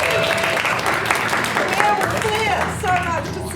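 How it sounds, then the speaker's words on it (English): Audience clapping for a stand-in speaker at a student-run Dunedin mayoral debate, steady applause from a crowd filling the room, with voices and cheers mixed in throughout. "So round of applause for Mandy, please"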